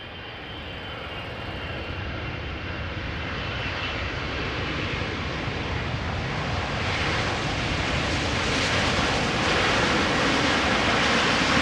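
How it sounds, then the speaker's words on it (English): A Boeing 777-300ER jet airliner approaches with a deep, broad engine roar that builds steadily louder as it draws nearer, with no voices. "KLM flight 682. 777-300 ER arriving from Vancouver."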